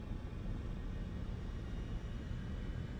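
Mirage IIIC jet in War Thunder flying steadily, a broad continuous roar with a heavy low rumble that holds at an even level throughout, with no talk over it.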